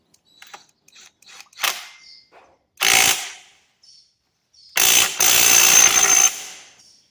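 Tools working on the clutch basket nut of a 2003 Suzuki RM85 dirt bike during a bottom-end rebuild: sparse clicks and taps, then two loud bursts of power-tool rattling, the second longer.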